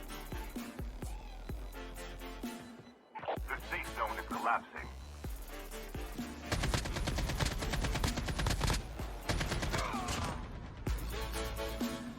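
Hip-fire from guns in Call of Duty Mobile crackles in rapid bursts, with short pauses between volleys, loud and continuous over game sounds.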